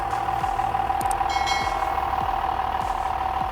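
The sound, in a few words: John Deere 6610 tractor engine running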